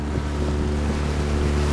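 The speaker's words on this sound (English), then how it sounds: "Have a look at this engine we got behind us." A motorboat engine runs at the stern, a loud, steady low drone mixed with rushing wind and water noise, continuous and close, with no talk.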